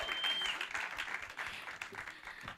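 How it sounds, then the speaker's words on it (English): Audience applause at a fashion awards ceremony, a steady wash of many hands clapping at moderate distance with a faint crowd murmur, no speech over it. "Let's all give a round of applause for Gert Johan Coetzee."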